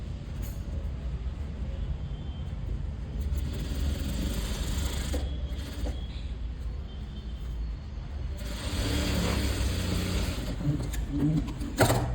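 A sewing machine stitching a child's skirt with lining, running with a steady rapid mechanical clatter that stops briefly and resumes louder toward the end, close by, with no talk.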